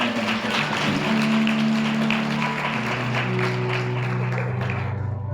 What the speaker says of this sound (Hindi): तालियां बजाकर महिमा करें परमेश्वर की।